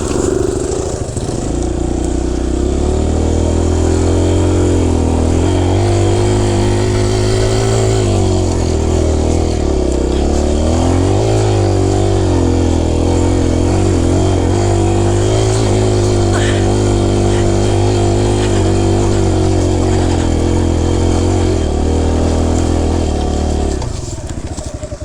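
A brand new Kawasaki KLX140 dirt bike on its first ride, in first gear, gives a loud, close engine drone that holds steady for the whole stretch with slight dips in pitch, then fades away at the end.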